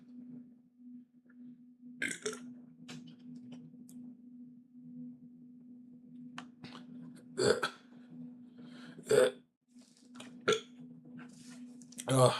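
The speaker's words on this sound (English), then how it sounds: "Oh, I got a burp." A man lets out a few short, weak burps between stretches of quiet, with a low steady hum underneath and some talking around them.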